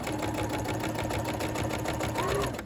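A sewing machine runs steadily, stitching a seam on a Simplicity 8797 coat, its rapid even needle chatter continuous and close throughout the short stretch.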